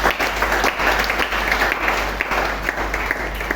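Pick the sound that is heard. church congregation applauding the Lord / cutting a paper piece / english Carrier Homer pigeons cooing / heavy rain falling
church congregation applauding the Lord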